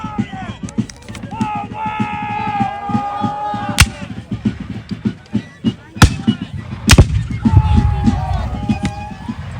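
Sharp cannon blasts crack out a few times amid outdoor crowd noise, footsteps and scattered voices at an American Civil War battle reenactment.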